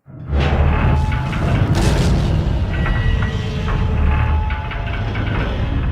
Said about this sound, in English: A violent explosion suddenly shook the entire boat.